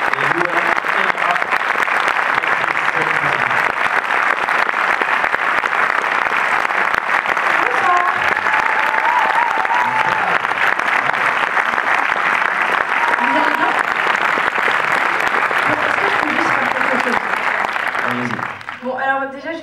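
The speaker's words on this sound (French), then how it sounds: "merci d'applaudir chaleureusement, s'il vous plaît, Eric Lartigot, le réalisateur, et Louane Elra." Loud, sustained applause from a cinema audience at a film preview greeting the director and actress, a dense unbroken wash of clapping for nearly twenty seconds, with faint voices and cheers mixed in, ending abruptly.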